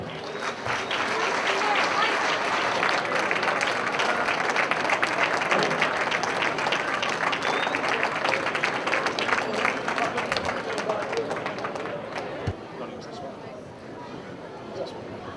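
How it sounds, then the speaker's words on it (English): A large audience at a society event gives a long, loud round of applause for an honoree, dense clapping with some crowd chatter mixed in, thinning slightly toward the end. "would you please give a big round of applause to Mr. Jack Uppel"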